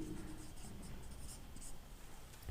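A teacher writes on a board during a physics lesson, producing a faint continuous scratching and tapping stroke sound over room noise, with no voice.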